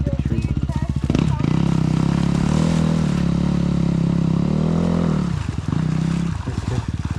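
A dirt bike engine drones loud and close as the rider pushes through a deep mud hole, its pitch holding steady then dropping and rising again, over a sputtering idle at both ends.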